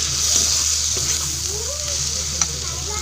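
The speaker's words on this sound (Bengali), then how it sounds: "এবারে মশলাটাকে ভালো করে কষিয়ে নিই।" Spice paste of Kashmiri chilli powder, turmeric, garam masala and salt, with onion and tomato, sautéing in a pan: a close, steady sizzle with soft stirring scrapes throughout.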